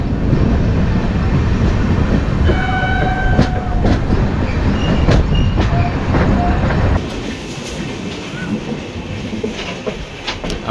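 Samaleswari Express (Howrah to Jagdalpur) rolling along the rails near Rourkela, a steady loud rumble with rhythmic wheel clatter and a few bright squeals, the roar dropping slightly partway through; no talking.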